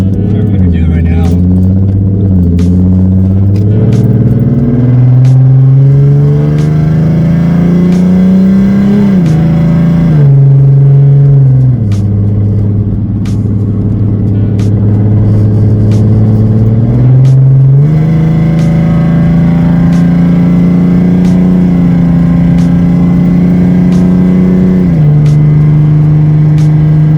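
A 3.7-litre V6 Ford Mustang with a new driveshaft accelerates on the freeway, its engine loud and close, climbing in pitch through several gear changes before settling into a steady drone.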